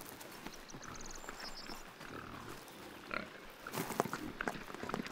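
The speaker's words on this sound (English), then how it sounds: "The black Iberian pigs can be traced back to ancient times. They are connoisseurs and find the acorns irresistible." Black Iberian pigs forage for acorns outdoors, with a continuous rustling, snuffling bed of movement and occasional grunts, plus bright birdsong overhead and a busier burst of activity toward the end.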